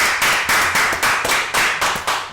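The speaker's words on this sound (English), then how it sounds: "Let's give them a round of applause." Audience applause at the close of an interview, a steady burst of clapping from a room of people, fairly close and lively with rhythmic swells, no talk over it.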